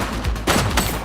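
Gunfire in the police game The Precinct crackles in a quick, dense volley of close shots lasting about a second.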